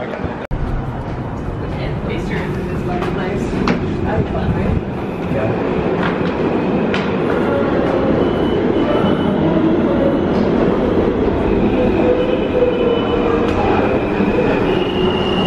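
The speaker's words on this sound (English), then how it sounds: "end up taking the subway" A New York City subway train rumbles loudly and steadily, wheels clattering and metal squealing faintly over a constant roar of the moving car.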